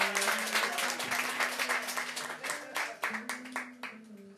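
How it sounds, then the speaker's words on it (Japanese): Audience applause at a live band concert in a small venue, steady clapping throughout with a sustained musical tone humming underneath. "皆さん拍手をお願いします。"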